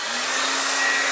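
A blow dryer on high heat runs loud and steady as a hissing whoosh while it heats a waxed chalk couture surface, alone with no voices.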